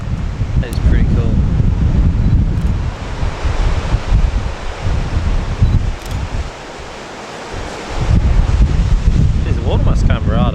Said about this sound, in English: Unfortunately, it is so windy.